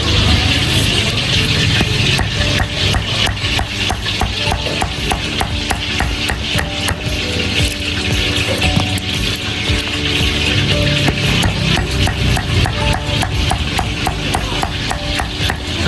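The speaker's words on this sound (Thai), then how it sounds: "เดี๋ยวฟังเสียงหมูกรอบนะ" A cleaver chops crispy pork belly at a Chiang Rai crispy-pork shop, a loud, fast stream of sharp knocks on a chopping board that runs without a break and has no talking over it.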